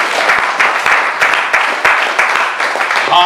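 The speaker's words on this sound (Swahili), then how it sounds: "Mpigie Yesu makofi." A congregation at a Christian preaching gathering bursts into applause for Jesus: dense, steady clapping from many hands, close and loud, sustained throughout with no voices over it.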